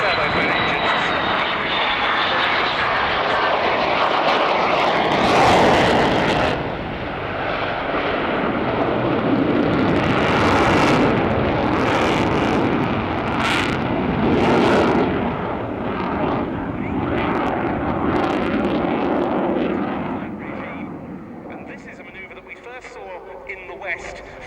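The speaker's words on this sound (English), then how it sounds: "And the Lyulka, or now Saturn AL-31F turbofan engines." Sukhoi Su-27 Flanker jet fighter with twin Saturn (Lyulka) AL-31F turbofan engines at an air show, a loud sustained roar that surges and rumbles for about twenty seconds before easing off, with a commentator talking over it.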